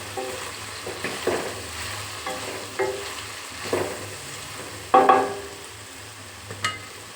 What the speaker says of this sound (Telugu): బెండకాయ ఫ్రైని మళ్ళీ ఒకసారి మిక్స్ చేసేసుకుందాం